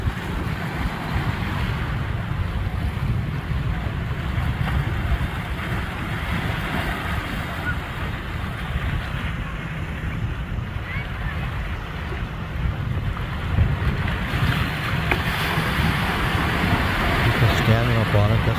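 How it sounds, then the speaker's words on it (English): Storm-driven ocean waves crash and churn continuously at Morro Bay, California, with wind buffeting the microphone, a dense, steady roar of surf throughout. "Love the ocean."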